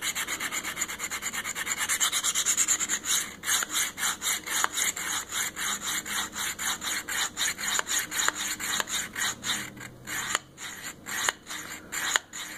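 Knife blade drawn repeatedly across a Worksharp Field Sharpener, a steady run of close, rasping strokes with a regular back-and-forth rhythm, loud and continuous with no talk.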